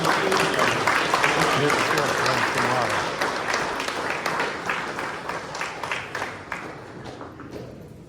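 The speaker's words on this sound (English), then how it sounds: "Please give a warm round of applause as we welcome President of the Tourism and Hospitality." Audience at a Guyana tourism awards ceremony applauds warmly to welcome the president of tourism and hospitality, a dense, steady clapping that thins and fades toward the end, with scattered crowd murmur beneath.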